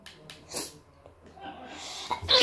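A sneeze, with sharp breathy bursts and snorting intakes of breath that end in a loud, close explosive sneeze, amid scattered breathing noises.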